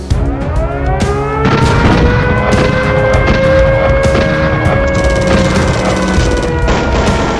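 Machine-gun fire opens an attack at Ambarawa, a loud, dense, continuous barrage of bursts and booms with ringing tones running through it.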